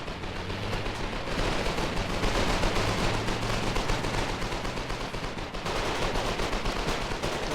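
Rifle and SMG gunfire in the video game Foxhole, a fairly distant, continuous rattle of rapid shots from several weapons, holding steady with only brief dips throughout.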